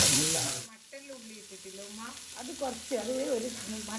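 Onions fry in oil for mutton biryani, starting with a brief burst of loud sizzling that drops to a fainter crackle while a person talks over it.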